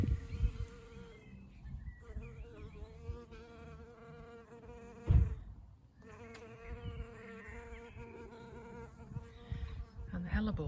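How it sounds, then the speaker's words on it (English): Bees buzz steadily and close, a dense drone that rises and falls as insects move about, with a brief bump of handling noise midway. "The bees."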